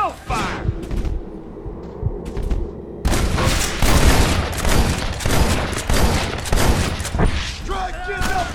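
Rapid gunfire from many shooters in a Red Dead Redemption gunfight at a gate, dense bursts and volleys crackling nonstop, loud and close, with someone talking over the shooting.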